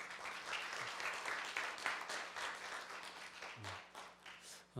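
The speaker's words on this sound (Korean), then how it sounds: "애쓴다고 박수 한번 주시면 좋을 것 같습니다" Conference audience applauding, a steady wash of many hands clapping at moderate distance, sustained throughout without speech on top.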